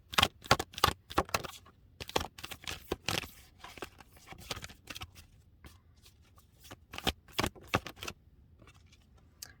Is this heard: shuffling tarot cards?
yes